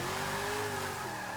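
Car engine revving hard during a drift in Forza Motorsport 6, likely the Plymouth Prowler, with a loud, sustained high-rpm drone and faint tire noise throughout, no voices.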